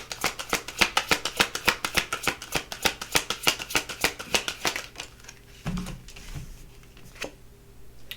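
Tarot cards are shuffled in a rapid run of crisp, close riffling flicks for about five seconds, then a few softer taps and slides as the deck settles.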